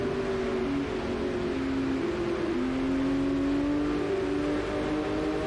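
A Formula Vintage G2 race car engine in Automobilista 2, racing at the Nordschleife in heavy rain, drones steadily with its pitch rising and falling through the gears.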